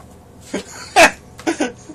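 A person imitates coughing with three or four short, sharp, close bursts, the loudest in the middle.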